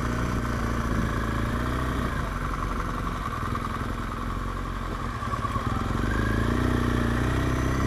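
Motorcycle engines idle and rumble steadily at a Sunday bike meet in the Peak District town of Matlock Bath, a close, continuous low throb with light mechanical clatter and no talk.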